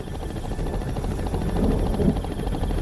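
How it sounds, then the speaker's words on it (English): Helicopter overhead in a Jurassic Park–themed analogue horror piece, a dense steady rotor drone with a throbbing low rumble, fairly loud and constant throughout. "sound of the chopper is probably frightening her."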